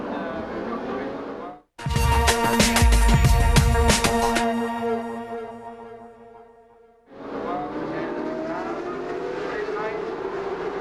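Sports prototype race cars at Magny Cours roar past loudly, one screaming engine surging through, then fading before another car's drone rises; commentary runs over the noise.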